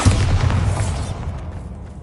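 A Bombarda spell explosion in a Harry Potter game lands as a loud low boom with a crackling burst that decays over about a second.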